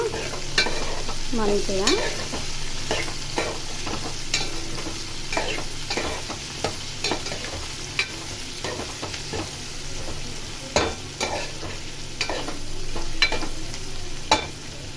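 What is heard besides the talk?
onion frying in oil in a pan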